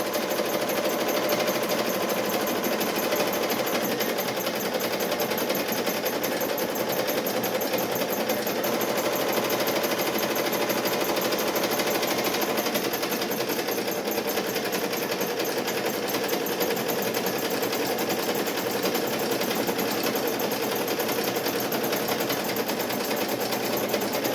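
Two embroidery machines stitch at once, making a dense, continuous rapid needle chatter with steady motor whir that holds at an even level throughout, with no voices.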